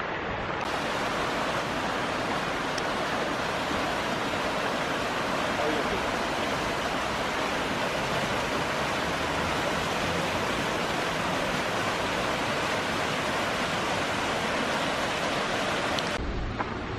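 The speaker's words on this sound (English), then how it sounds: "we're gonna go look at the Helen Hunt Falls" Helen Hunt Falls on the Seven Bridges Trail in Colorado Springs pours with a constant, loud, broadband roar of rushing water that holds steady throughout, with no voices.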